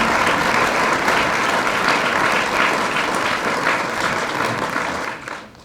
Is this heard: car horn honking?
no